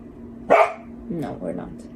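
A dog barks once, a short, sharp bark close by, set among people talking.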